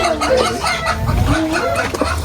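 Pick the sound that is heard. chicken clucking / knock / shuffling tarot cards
chicken clucking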